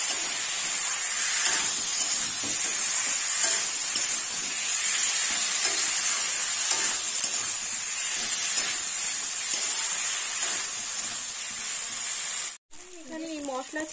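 Fried potatoes sizzle and hiss steadily in a spiced masala in a pan, a broad constant frying noise with faint stirring, cut off briefly near the end before a voice speaks.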